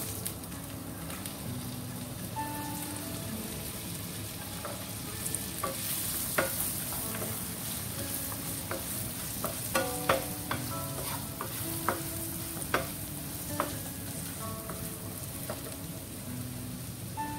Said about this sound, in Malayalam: നന്നായി ഫ്രൈ ചെയ്തെടുക്കണം പാവയ്ക്ക